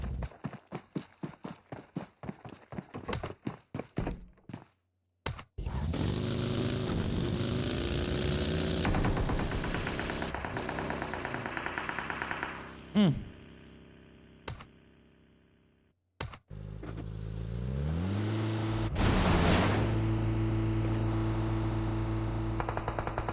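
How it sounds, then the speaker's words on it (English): Bursts of gunfire and rapid machine-gun fire from the battle-royale game PUBG Mobile, loud and close in a tournament match, firing in sharp repeated volleys with pauses and a steady hum between them. "Oh, gunshots, let's leave."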